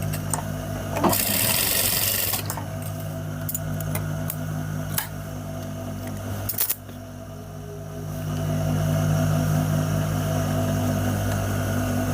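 A tailor's sewing machine stitching a trouser pocket runs in a loud, steady whir, with a brief louder burst early on, a few ticks and clicks, then a strong run again near the end; no speech.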